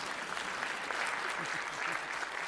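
Fairly faint, even applause from the audience at a schools conference with the Education Secretary, a continuous soft patter of many hands with little else over it.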